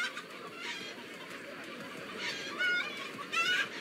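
Chickens clucking and squawking in the Minecraft Story Mode video game, a few fairly close bird calls rising in short bursts over a low background.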